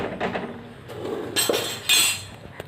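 A metal kadhai (wok) is set onto a gas stove, giving a few close metallic clanks and knocks over a low background hiss.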